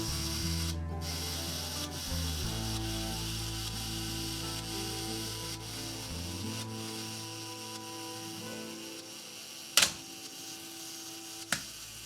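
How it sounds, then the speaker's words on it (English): A Canon FT QL film SLR's mechanical self-timer whirs as it runs down, a quiet buzzing drone for several seconds that ends in a sharp shutter click, followed by a softer click. "To use the self timer, you rotate this lever down"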